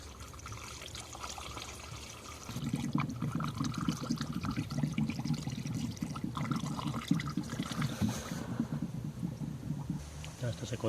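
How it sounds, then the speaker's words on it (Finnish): Premixed coolant is poured into the cooling system of a Fiat Ducato van, a liquid gurgle and trickle that begins after a couple of seconds and runs on steadily, with someone talking at times. "Tässä on valmista tavaraa, sen kun kaataan sekaan."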